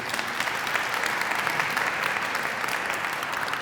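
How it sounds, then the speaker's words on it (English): A luncheon audience at a Black History Month closing celebration applauds steadily, a dense even wash of clapping that stays loud throughout with no voices over it. "Let's give them another round of applause if we can, too."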